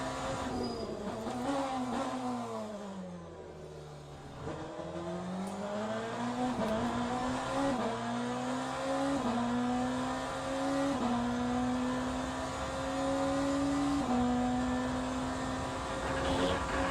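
A race car engine in the Le Mans Ultimate sim at Spa-Francorchamps, droning and climbing through the revs with repeated gear shifts, steady and close with no voices.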